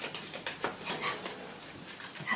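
A small dog whimpers and whines in a series of short high, nasal cries close by, with no one speaking.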